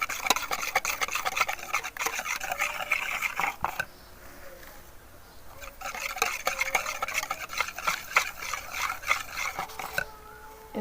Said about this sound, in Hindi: उसको हम अच्छे से फेंट लेते हैं।